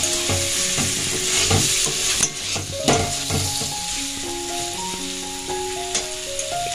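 Cauliflower manchurian sizzles steadily in a pan over a medium flame while a spatula stirs and scrapes it, with occasional louder clatters of utensil against metal.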